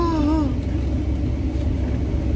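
A vehicle drives toward a desert campsite near Quartzsite, with a steady low engine rumble and road noise carrying on without a break. A brief voice-like tone sits near the start.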